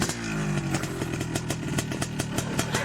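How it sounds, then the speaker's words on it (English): A motorcycle engine being kick-started runs with a steady, rattling chug and regular clattery pulses, heard fairly quietly without any speech. "Alvin, you kick the starter."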